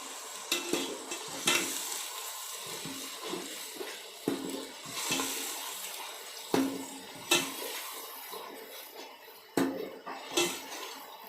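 Ground onion paste frying in a pan of chicken gravy, a soft steady sizzle broken by repeated scraping stirs and clatters of a spoon against the pan, close and fairly loud with no talking.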